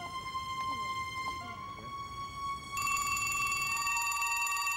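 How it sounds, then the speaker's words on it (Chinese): A telephone rings in an indoor shop scene, a repeated bell-like tone that becomes louder and brighter midway through, while a voice speaks faintly. "电话呢？"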